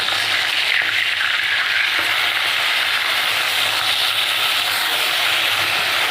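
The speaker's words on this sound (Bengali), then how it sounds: "এবারটা আমি ভালো করে লাল লাল করে ভেজে নেব" Continuous loud sizzling of rohu fish frying in hot oil, a dense crackling hiss that stays steady from start to finish, heard up close.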